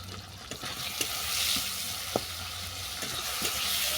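Spices, including chilli powder, garam masala and sugar, fry in a pan for watermelon-rind curry, a steady close sizzle broken by scraping stirs and a few sharp spatula knocks.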